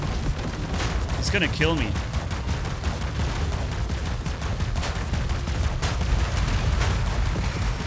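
Robot weapons firing in the mech shooter War Robots: Frontiers, a dense, continuous barrage of gunfire and heavy blasts, loud and unbroken, with someone talking over it.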